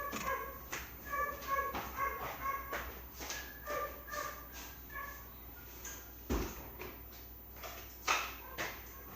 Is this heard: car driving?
no